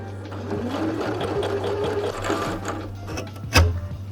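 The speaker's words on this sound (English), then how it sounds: "see if my machine will even do a zigzag stitch on this very thin, flimsy material" A sewing machine runs a zigzag stitch across very thin, flimsy fabric, its motor whirring steadily and closely with a rapid mechanical rhythm, ending in a brief louder clunk near the end.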